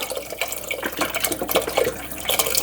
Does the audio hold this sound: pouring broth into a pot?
yes